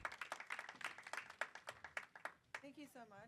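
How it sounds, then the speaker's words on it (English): Scattered hand claps from a small group, irregular and close, fading after a few seconds as a voice begins speaking. "Round of applause."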